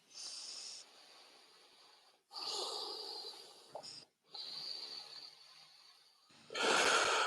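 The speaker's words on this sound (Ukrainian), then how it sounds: "Прям подихайте животом глибоко, що він аж походив." Slow, deep breaths drawn in and let out in long airy hisses, separated by short pauses, close and quiet, ending with a stronger exhale.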